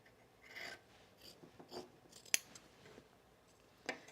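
Scissors snip through dress fabric during sewing, a few soft scattered cuts with one sharp, distinct snip standing out, close and quiet with no talk.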